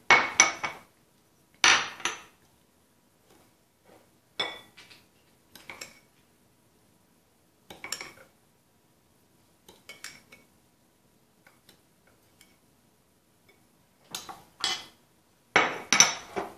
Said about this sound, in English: you're gonna take your sugar and add it to the bowl.